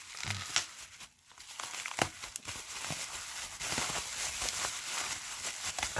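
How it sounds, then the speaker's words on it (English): Twosun TS186 knife slicing through packaging tape on a mail parcel, giving faint close crinkling and tearing sounds in short bursts. "I'll use the Twosun to cut that tape."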